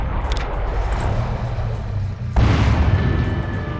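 Artillery fire from a Basilisk gun shelling Orks during an Imperial Guard versus Orks tabletop battle: a loud, steady booming rumble with a sharp fresh blast partway through, standing alone without talk.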